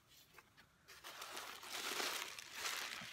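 Packing paper is crumpled and crinkled close by while a parcel is unpacked, with quiet rustling that builds into a louder, steady crackle and no talk.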